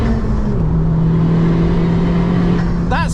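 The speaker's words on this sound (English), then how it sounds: "I keep thinking I'm going to drive it like my Cupra using the torque, but actually it really wants to rev." A Honda Civic Type-R FK2 revs hard on a lap of the Nürburgring, a loud sustained engine drone holding a steady pitch with a brief rising whine near the end, heard from inside the car.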